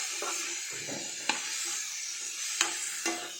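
A spoon stirs chana masala in a pan over a soft steady sizzle, with a few sharp scraping knocks against the pan; close, fairly quiet, no talking.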